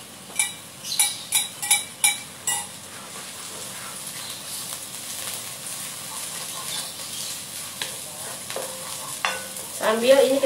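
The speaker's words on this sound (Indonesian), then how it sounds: "Sambil ini kita tumis bawang bombaynya sampai wangi ya." Onions sautéed in a pan while a gluten-free tuna pie is prepared, with a few sharp stirring scrapes at the start, then a steady close sizzle and more clattering utensil scrapes toward the end.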